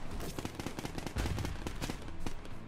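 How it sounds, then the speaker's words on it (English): Rapid bursts of landmine explosions in the video game Happy Room, a dense, loud run of crackling blasts that fire almost continuously, with a heavier boom near the middle. "couple more landmines to get that extra damage in there"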